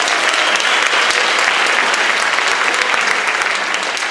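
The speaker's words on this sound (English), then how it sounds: "So let's give a round of applause for Sean." Steady, loud applause from an audience at a senior band awards event, dense and continuous throughout with no talking.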